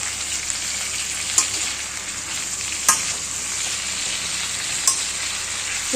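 Nalleru leaves fry in a pan of oil with a loud, steady sizzle, punctuated by three sharp crackling pops spaced a second or two apart.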